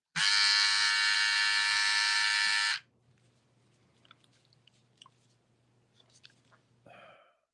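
A barber's hair clipper motor whirs at high speed, a loud steady high-pitched buzz for about three seconds before it cuts off, followed by faint handling clicks and a brief soft tone near the end.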